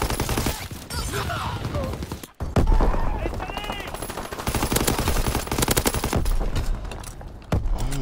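Rapid automatic gunfire from a Call of Duty video game weapon, loud and sustained bursts filling the clip with a brief gap midway, under game effects and some talk.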